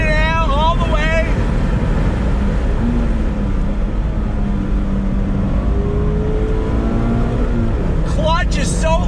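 A 2020 Mazda MX-5 RF engine wound out at speed, a loud sustained drone with rising pitch and shifts, heard over road noise while a voice talks throughout.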